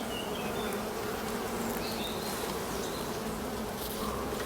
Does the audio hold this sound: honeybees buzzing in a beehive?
yes